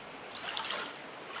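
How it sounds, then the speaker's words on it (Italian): Water trickling and sloshing as ore is washed in a gold pan in the Gold Rush video game, a soft continuous splashy dribble with a few small drips, no voices over it. "devo lavare questo nell'acqua"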